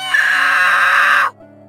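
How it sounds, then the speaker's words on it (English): A boy in an animated story lets out one loud, sustained, high-pitched scream for help that lasts more than a second and then cuts off abruptly into quiet. "The boy kept screaming for help, but no one turned up this time."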